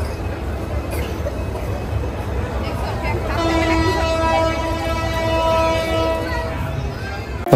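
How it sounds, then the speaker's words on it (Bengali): An express train on the Cox's Bazar to Dhaka route pulls into the station with a low rumble, then a long sustained horn blast rising over a crowded platform with voices. "ফাইনালি আমাদের ট্রেন চলে আসছে"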